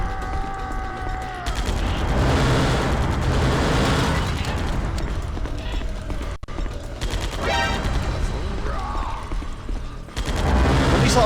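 Rapid first-person gunfire bursts from Metal Gear Solid The Twin Snakes, loud dense volleys with mechanical clatter, broken by brief pauses and a few game effect tones.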